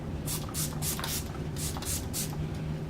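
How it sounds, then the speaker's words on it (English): Close, short hissing spritzes of a makeup setting spray bottle onto a face, about seven quick pumps in a row over a low background hum. "I'm just gonna spray my face."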